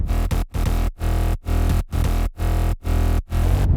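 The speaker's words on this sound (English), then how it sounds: "So the bass without effect sounds like this." A deep, rolling synth mid bass with no effects plays alone in short sustained pulses separated by brief gaps, dry and steady with a strong low end, for progressive house.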